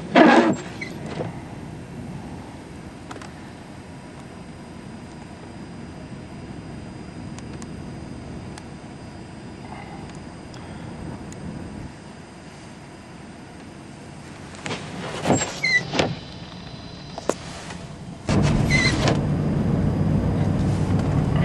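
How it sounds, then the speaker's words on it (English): Blizzard wind roars steadily against a stopped car on a rural road a mile south of town, with snow drifting across the pavement; a continuous broadband rush swells louder near the end, with a few brief thumps and rattles. "you can get an idea what the wind's starting to sound like"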